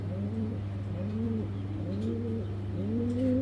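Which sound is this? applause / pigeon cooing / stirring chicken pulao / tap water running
pigeon cooing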